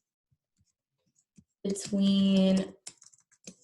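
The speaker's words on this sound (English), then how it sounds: "Let me see if I can get my typing again." Brief burst of computer keyboard typing, quick clustered keystrokes lasting about a second, close and fairly loud, with a few scattered clicks and a single spoken word nearby.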